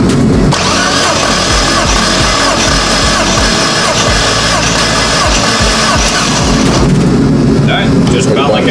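A Dodge SRT4 engine with a big turbo build cranks over during a cranking pressure test, a loud, continuous, rhythmic churning in a garage that stops near the end, with voices around it.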